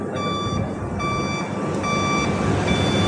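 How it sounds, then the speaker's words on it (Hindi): Buzzer of a Nilkamal battery-operated stacker sounding after being switched on, a rapid repeating electronic beep with a steady pulsing rhythm, loud and close over broadband machine noise. "ये बजर स्टार्ट हो जाएगा।"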